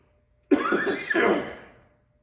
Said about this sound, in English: I'll cut out the coughing part.